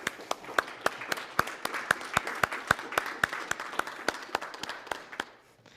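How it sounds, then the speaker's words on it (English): A crowd at a candidate forum applauds with rapid, sharp claps that hold steady for several seconds, then fade out near the end. "How about a round of applause for these guys?"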